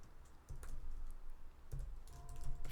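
Rapid tapping of keys on a computer keyboard as a web address is typed, close and fairly loud over a faint hum, with a couple of heavier key strikes.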